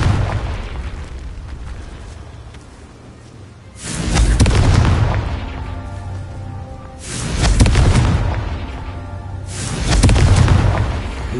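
Confringo fire spell exploding in a Hogwarts wizarding video game, heard as three loud booming blasts spaced a few seconds apart, each swelling and then fading into a low rumble.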